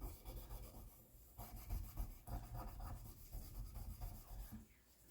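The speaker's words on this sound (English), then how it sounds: "Now I'm simply going to wipe it off. Polish each fret." A cloth wipes lemon oil from the frets of a nylon-string guitar, making faint rubbing and scraping strokes in short irregular bursts at close range.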